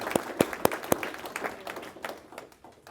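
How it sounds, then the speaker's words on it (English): A brief round of applause at a formal talk, starting with a few loud, distinct claps and fading into softer, scattered clapping over a few seconds. "I'd like to give you a round of applause for that."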